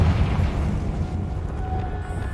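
Bombarda and Confringo spell blasts in the game Hogwarts Legacy: a loud, dense low rumble that swells at the start and then rolls on steadily as a sustained explosive roar with no voices.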